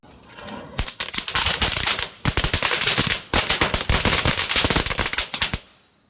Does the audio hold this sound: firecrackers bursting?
yes